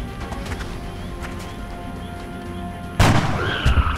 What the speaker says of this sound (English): Perform a headshot.